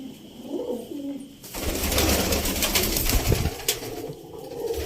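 Home-breed pigeons in a loft in Lahore's Shad Bagh coo softly up close, then a loud burst of rustling and fluttering sweeps over the low calls for several seconds.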